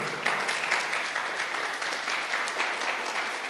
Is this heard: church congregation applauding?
yes